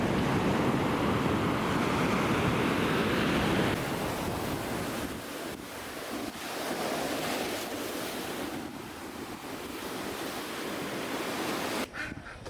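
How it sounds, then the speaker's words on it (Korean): Ocean waves break and wash in at Chuam beach, a steady roar of surf with rolling swells and wind buffeting, loud and close throughout with no voices. "추암 해수욕장에서 시원하게 부서지는 파도를 보며 걸을 수 있었으며"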